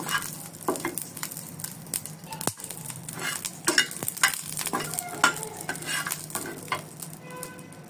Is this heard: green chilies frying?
yes